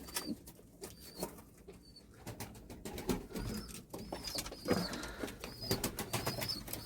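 Pet pigeons in a loft coo in low, soft, throaty bursts close by, with scattered wingbeats and light clattering around them and no talk.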